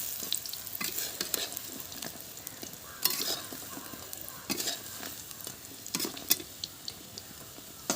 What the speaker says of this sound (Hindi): इसलिए जब तेल बहुत ज़्यादा गर्म रहे तभी आपको बड़ी डालना है